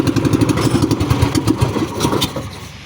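A motorcycle engine sputtering with rapid, uneven putting pulses, struggling to catch and then dying away into silence, close and loud.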